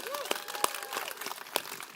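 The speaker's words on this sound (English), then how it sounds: "So let's give them a round of applause for their support." Audience applause at a Robinhood crypto launch event, scattered claps and crowd noise rising for regulators and policymakers, mixed with talk and cheering in a large hall.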